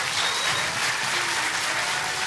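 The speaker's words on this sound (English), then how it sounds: "Can we have one last round of applause?" A choir competition audience applauding, dense continuous clapping from a sizeable crowd, loud and steady throughout with no talk.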